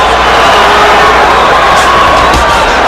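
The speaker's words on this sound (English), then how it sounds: "Crowd is chanting, Oscar," A dense boxing arena crowd at the Bernard Hopkins vs Oscar De La Hoya fight roars and chants Oscar's name, a loud continuous wall of voices with a few sharper shouts rising near the end.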